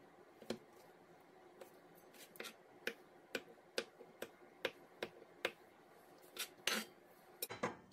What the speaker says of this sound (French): je vais le couper en petits morceaux